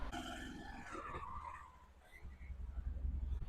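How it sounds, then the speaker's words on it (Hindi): Honda Shine 100 BS6 motorcycle with a stalling fault started and ridden, a low rumbling engine that steadies into a pulsing drone after a faint clattering opening. "गाड़ी को एक बार स्टार्ट करके चेक कर लेंगे।"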